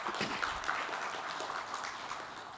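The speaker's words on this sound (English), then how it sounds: "So I want to give a round of applause to our KHF Secretariat for keeping us together" A room of people at a members meeting applauding, steady scattered clapping at moderate distance that holds for a few seconds and then begins to taper.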